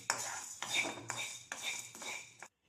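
Whole cumin, coriander seeds, a cinnamon piece, a bay leaf, cloves and cardamom are dry-roasted in a pan, with a utensil scraping and tapping in four or five distinct strokes, close and quiet.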